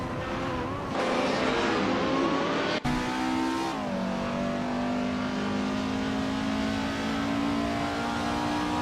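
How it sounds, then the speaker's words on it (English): A 1991 Honda Civic in a racing video game revs hard and then cuts briefly before the engine settles into a sustained, even whine at high speed, close and loud, with no talking. "Big Boy Bets is running a 1991 Honda Civic Ace IR2, a reliable compact with decent agility"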